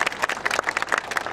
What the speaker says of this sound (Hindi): बजाओ ताली